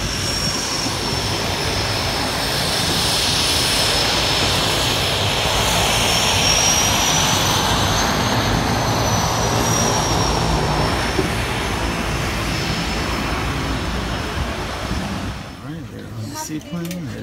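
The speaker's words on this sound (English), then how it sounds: "it is a seaplane after all" Twin Otter seaplane engines run at a steady loud roar with a high whine, heard from inside the cabin in the Maldives, continuous for many seconds before easing off at the end.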